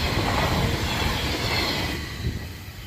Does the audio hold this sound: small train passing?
yes